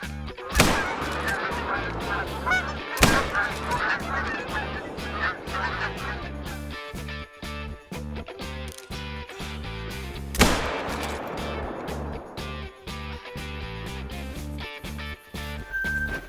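Geese honk among the fields in theHunter: Call of the Wild, a clustered, overlapping chorus of calls, broken by three sharp, loud gunshots, the first near the start and the last well into the stretch.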